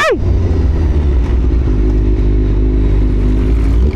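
A big bike motorcycle engine runs steadily up close, a deep continuous rumble with a brief rising rev at the very start and no voices over it.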